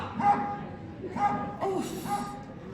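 A pet dog in a house gives short barks and thin, high whimpers in a repeating pattern, heard close up, with a person talking around the sounds.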